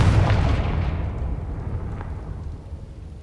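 A Confringo blasting spell in the video game Hogwarts Legacy goes off as one loud, booming blast at the start, its low rumble dying away over about three seconds.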